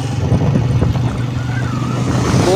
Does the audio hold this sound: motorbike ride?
yes